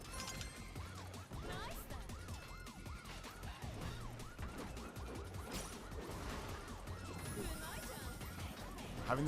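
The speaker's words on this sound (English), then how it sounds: "Having the police siren as part of the beat for the song is really good." A police siren woven into the beat of a game soundtrack from the train action game Denshattack, its wailing rise-and-fall sweeps repeating over heavy pounding music and crashing effects.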